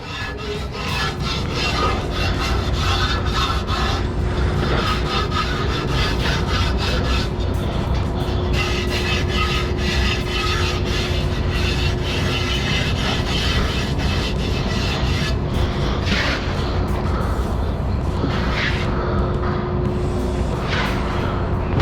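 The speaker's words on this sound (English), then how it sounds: "And then you gotta clean the bead." A tire bead is cleaned on an automotive job, a loud, continuous close scraping and rubbing rasp that runs throughout, with a few sharper scuffs near the end and no talking.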